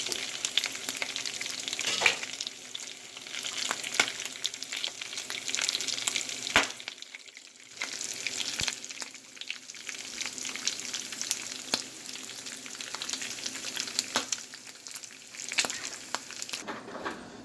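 Bacon frying in a pan, a continuous crackling sizzle with scattered pops and occasional light taps as the strips are moved, moderately quiet and close with no talking.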